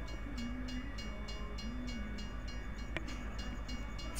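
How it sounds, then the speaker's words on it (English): In Farming Simulator 17, a passing train gives a continuous heavy rumble with regular clicking wheel beats, a wavering tonal whine and one sharp hit midway. "Figure we probably should wait for the train."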